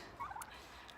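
Homestead turkeys gobble faintly in a quick warbling burst, a short distant call over quiet outdoor background with no voices.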